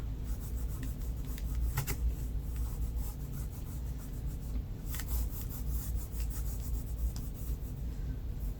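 A hand rubs glitter off a wooden surface with a quiet, continuous, scratchy friction that runs evenly throughout, with brief sharper rasps and no talking.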